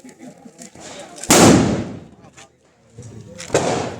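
Diwali rockets fired sideways in a village go off in two sharp, loud bangs a couple of seconds apart, each with a hissing trail, while people talk nearby.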